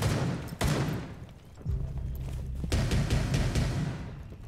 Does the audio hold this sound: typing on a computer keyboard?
no